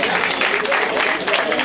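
An audience applauds a cyclist at the podium after a stage of a road race, with steady dense clapping from a crowd close by.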